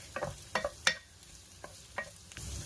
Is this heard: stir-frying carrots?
yes